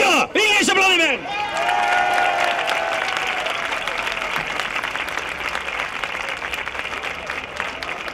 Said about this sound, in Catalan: Vinga, aquest aplaudiment!